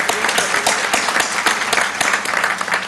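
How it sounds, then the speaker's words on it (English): A conference hall audience applauds for support staff, a dense, steady wash of many hands clapping that carries on for about three seconds without any speech. "So a big round of applause for our support staff."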